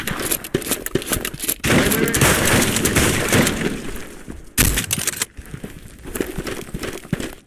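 Shooter video game gunfire crackles in dense rapid bursts, loud and close, with brief pauses between volleys.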